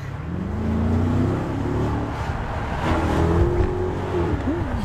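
A neighbour's car driven hard, its engine roaring close and loud as it revs, pitch climbing and dropping with gear changes over a heavy continuous rumble, no talking.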